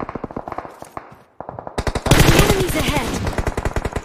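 Rapid automatic gunfire in a BGMI-style battle royale scrim. Loud, close bursts of repeated shots keep going without a break, layered with more distant fire and a voice talking over them.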